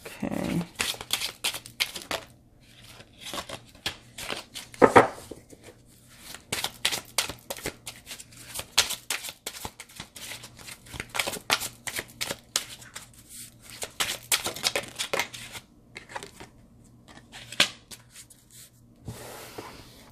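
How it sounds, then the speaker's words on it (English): A deck of Life Purpose Oracle cards is shuffled close up, with dense riffling and flicking rustles in rapid bursts, short pauses between handfuls, running for about twenty seconds. "so got those cards. And this is the Life Purpose Oracle cards by Doreen Virtue"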